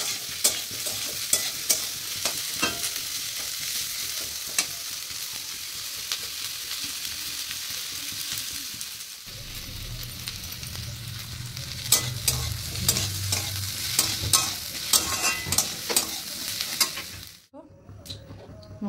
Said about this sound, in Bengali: মশলাটা ভেজে তুলে নিয়েছি